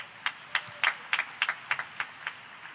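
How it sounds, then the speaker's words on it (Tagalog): Clapping from a congregation at a church preaching service, heard as a steady run of about a dozen evenly spaced, fairly faint claps that fade slightly toward the end. "Malakas sa palakpak sa ating mahal na Panginoon"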